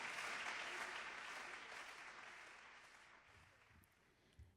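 Applause from a small live audience at the close of a recorded folk song, clapping strongest at the start and gradually thinning and fading toward the end, with a faint knock near the finish.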